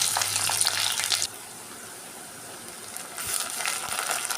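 Onions sizzling in hot oil with cumin seeds and mustard seeds, a steady bright frying hiss that drops away briefly mid-clip and then swells back, with no voices.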